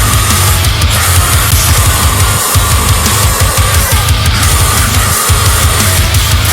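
A full music mix run through the Denise God Mode saturation plugin on the mix bus, with heavy high-end and added low-end saturation; dense, loud, continuous sound with steady bass pulses throughout.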